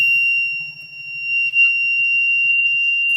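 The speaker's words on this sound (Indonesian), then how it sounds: "saat terdeteksi api maka lampu akan menyala, buzzer akan berbunyi" A fire detector's steady high-pitched electronic buzzer tone sounds continuously, with a faint low pulsing hum beneath it.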